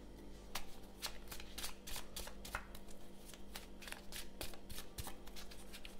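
Tarot cards shuffled close by in a quick, steady riffle of papery flicks and slaps, continuous and fairly soft over a low hum.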